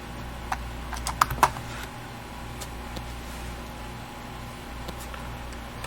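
Keys clatter on a computer keyboard as a terminal command is typed, a few quick taps clustered together, then a lull over a steady low background hum.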